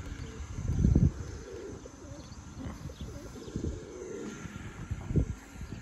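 Pigeons of the Sarı and Petrolcü breeds coo in a loft, with low, soft coos coming in short bursts, the loudest near the start and again toward the end, over a quiet background.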